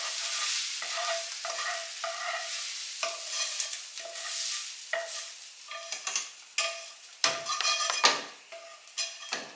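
Zuppa Toscana soup mixture stirred in a stock pot, repeated scraping and clinking strokes of a utensil against metal over a faint sizzle, steady rhythmic stirring up close with no talking.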